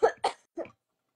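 A woman coughs after choking, giving three sharp, close coughs: two in quick succession and a third after a short pause, followed by silence.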